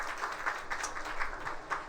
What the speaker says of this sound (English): A round of applause for all these ladies.